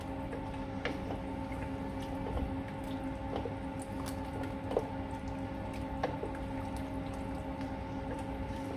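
Homemade stock pours into a pan for a beef and mushroom madras, a soft continuous liquid splashing with small drips and clinks over a steady background hum.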